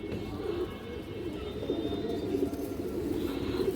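A small ring-eyed high-flyer pigeon coos in low, steady murmuring phrases, close by, over a constant wash of background noise.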